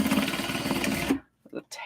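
A sewing machine stitches a fabric clutch made from an obi and kimono, running in a rapid close mechanical patter for about a second, then stopping abruptly before brief faint handling noises.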